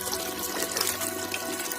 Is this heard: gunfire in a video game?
no